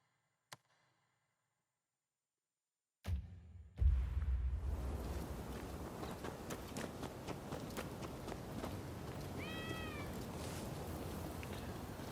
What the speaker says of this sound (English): There's a cat there